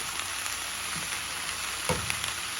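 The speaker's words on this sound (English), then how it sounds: "just brown our neck bone on both sides" Pork neck bones browning in a pan give a steady, even sizzle and hiss of frying, with a couple of faint low bumps from the pan, close up and with no talk.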